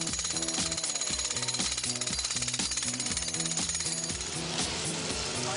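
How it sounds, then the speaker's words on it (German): Circus workers drive massive steel anchors into the ground to tension a big-top tent, a rapid, continuous machine-like hammering that pounds on steadily and loudly for several seconds with no pauses. "müssen die Zirkusarbeiter insgesamt 300 massive Stahlanker zum Spannen der Zeltkonstruktion in den Boden rammen"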